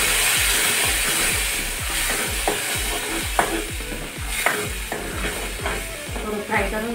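Potatoes and a ground chili-peanut paste fry in a pan for a fasting-day misal, with steady sizzling under a rhythmic, close scraping of a spoon stirring about once every half second.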